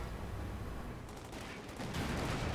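MG34 machine gun fire in a Company of Heroes 2 battle, with a steady, crackling stream of rapid shots amid distant gunfire; faint and low in level, with no voices.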